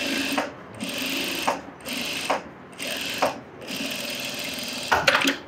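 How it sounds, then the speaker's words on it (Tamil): A sewing machine running edge stitching in bursts: four or five runs of rapid mechanical whirring and clatter, each about a second long, separated by brief pauses and small clicks, close and fairly loud with no speech. "கரெக்டாக இதுலேயும் எட்ஜ் தையல் போடுறோம்"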